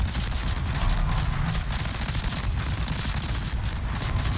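Rapid gunfire from the Italian destroyer Barbiano in World of Warships. A dense, nonstop barrage of overlapping shots and booms holds at a loud, even level throughout.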